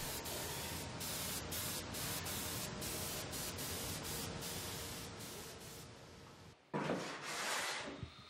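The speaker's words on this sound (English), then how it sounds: "Spray coating is carefully performed by the craftsman." Spray coating in a Yamaha piano factory: a loud, continuous hiss of a spray gun with regular brief pauses, then a short break followed by another burst, close and alone.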